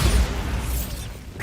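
Bombarda blasting spell going off in a Harry Potter video game: one loud, dense, roaring burst that fills the whole short moment and then cuts off.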